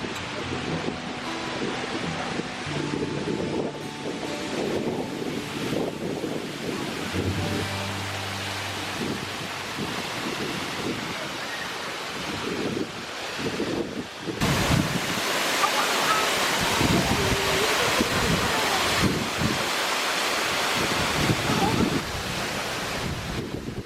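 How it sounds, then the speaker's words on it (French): Broad rushing roar of a 30-metre waterfall in the Kazbegi mountains of Georgia, steady and loud, with wind buffeting the microphone and a faint low hum early on. "se rafraîchir au pied d'une cascade photogénique de 30 mètres de haut"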